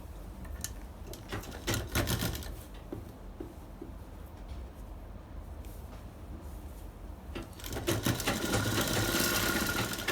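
A sewing machine runs in fast rattling bursts while stitching fabric, pausing briefly between runs and ending with a louder, sustained stretch of stitching.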